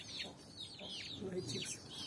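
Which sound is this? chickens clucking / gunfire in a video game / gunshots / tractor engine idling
chickens clucking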